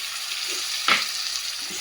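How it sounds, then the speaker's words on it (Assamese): Tomatoes fry with a soft, steady hiss in a pan, with one brief clink of a utensil midway, close and low in volume, while cooking mustard fish curry. "এতিয়া মই ধুনীয়াকৈ ভাজি ল'ম"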